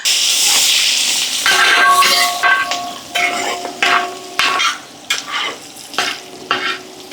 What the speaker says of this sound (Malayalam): പച്ചമുളക് എപ്പോഴും നമ്മൾ സെപ്പറേറ്റ് വറക്കണം